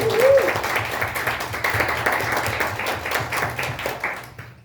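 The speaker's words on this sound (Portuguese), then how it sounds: "Podemos ouvir dar um aplauso para Jesus por isso?" A church congregation applauds during a sermon, warm and sustained clapping that fills the room at a fairly strong level, with a brief tone near the start, before fading out at the end.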